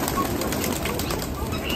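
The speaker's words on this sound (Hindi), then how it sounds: "अभी ना हमारे ऊपर भी कबूतर है, हमारे नीचे भी कबूतर है" Pigeons in a crowded village pigeon loft flap their wings, a dense, continuous fluttering rustle close by throughout the short moment, with no talk.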